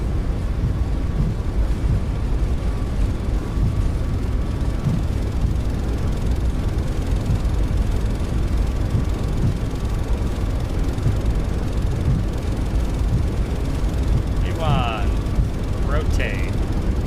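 Boeing 737 MAX 8 engines spooled up to takeoff thrust in the iFly flight simulator during the takeoff roll out of Las Vegas, a loud, unbroken broadband roar that stays level throughout, with a brief tonal chirp near the end.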